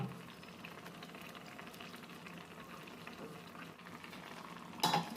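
Pomfret fish curry simmers in a covered pan over a medium gas flame, giving a steady close bubbling and soft sizzle with light clinks near the end.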